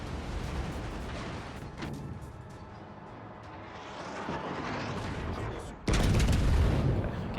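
Naval guns firing in World of Warships Legends, a rumbling background of distant shelling capped by a loud, close blast near the end, with a voice talking over it.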